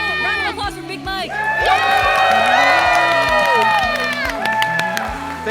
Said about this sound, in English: Everyone, round of applause for Big Mike.